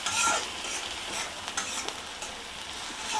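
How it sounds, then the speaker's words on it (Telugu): Onions sizzle softly in a pan for a cluster beans curry, with a spoon stirring and scraping now and then. The sound is close, fairly quiet and steady, with no voices. "ఇవి కొద్దిగా వేగాలండి కొద్దిగా వేగినాయండి ఉల్లిపాయలు"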